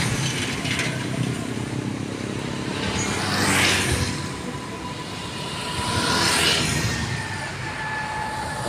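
A Mitsubishi Pajero Sport drives past on a road, one of two broad whooshing passes that swell and fade over steady traffic rumble, heard from the roadside.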